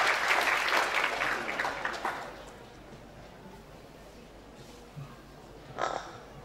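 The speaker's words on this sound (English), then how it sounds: "Please give a big round of applause for Mr. Shihab." Loud applause from a crowd fills the first couple of seconds, then tapers off into scattered claps and quiet room noise.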